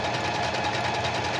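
A sewing machine stitching fabric runs with a fast, steady mechanical whir and a quick repeating rhythm, close and alone.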